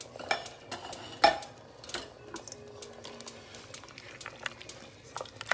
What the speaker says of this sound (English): And you're gonna stir those in there